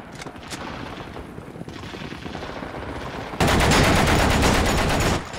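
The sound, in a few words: machine gun fire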